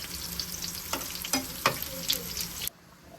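Garlic and green chillies sizzling in ghee for a tadka tempering for mutton shorba, with a bright close crackle, a few stirring scrapes, then a sudden drop to quiet.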